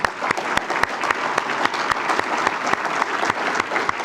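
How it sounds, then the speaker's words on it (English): A conference audience applauds at the close of a panel on debt financing, with steady, dense clapping that holds for several seconds. "Let's give it a round of applause"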